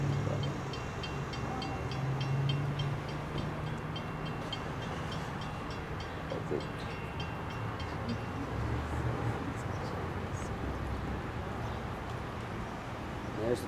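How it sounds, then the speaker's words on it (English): A freight train passes nearby in a steady, continuous rumble of rolling wagons and wheel noise, with people talking over it throughout. "The train is coming."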